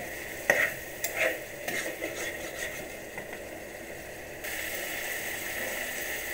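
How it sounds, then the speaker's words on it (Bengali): Chicken curry with coconut milk and poppy seed paste being stirred in a pan, a spoon scraping in soft irregular strokes over a low steady sizzle that grows a little louder near the end; no one talks. "আবার একটু অল্প নারকেলের দুধ দিলাম, নাড়ছি"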